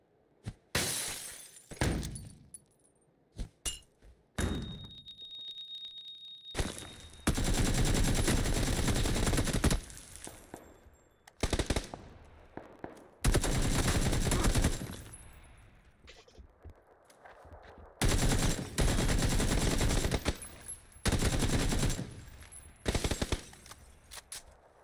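Bursts of gunfire in the video game PUBG: loud automatic volleys and single sharp shots come in irregular clusters, separated by quieter stretches.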